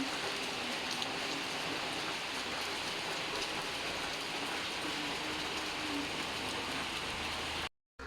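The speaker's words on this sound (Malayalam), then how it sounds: "ഇപ്പോൾ മഴ പെയ്തുകൊണ്ടിരിക്കുകയാണ്" Night rain falling steadily, a dense even patter on surfaces continuing for several seconds before cutting off abruptly near the end, with no voices.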